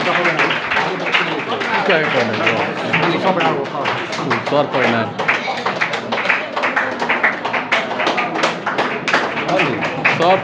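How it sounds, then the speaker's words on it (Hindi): A crowd at a gathering honouring a guest claps loudly and steadily throughout, with dense overlapping hand claps and voices mixed into the noise. "एक बार जोरदार ताली बजाइए फजल सर के लिए"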